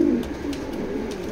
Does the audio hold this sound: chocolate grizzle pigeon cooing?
yes